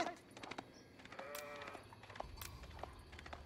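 Sheep bleating in the real-time strategy game Age of Empires IV, a few short wavering bleats rising over quiet game ambience with faint clicks, fairly soft and brief.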